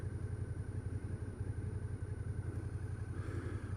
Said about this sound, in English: I'm test riding my girlfriend's Suzuki Gladius SFV650